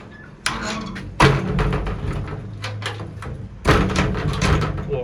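A door in a dim, dungeon-like toilet block near a Bali waterfall bangs and thuds three times, with sharp knocks at uneven intervals and short rattles after each, fairly close and loud with no talking.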